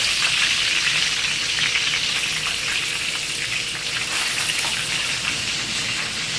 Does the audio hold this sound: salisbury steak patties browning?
yes